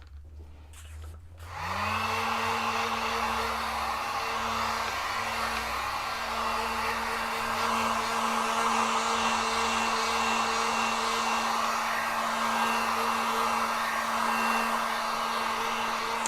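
A hair dryer starts up after a brief click and runs loud and steady on layered decoupage paper, with a continuous whirring hum that holds throughout.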